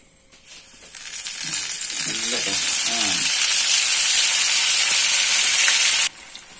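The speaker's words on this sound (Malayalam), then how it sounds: "എണ്ണ ചൂടായിട്ടുണ്ട് നമുക്ക് മട്ടൺ പൊരിച്ചെടുക്കാം" Loud, steady sizzling as mutton fries in hot oil, a continuous bright hiss that starts abruptly and cuts off near the end, with faint stirring beneath.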